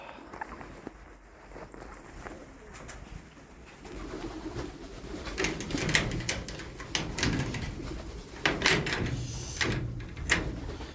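Pigeons coo softly in the background among rustling and shuffling movement, with a few sharp clicks and knocks scattered throughout.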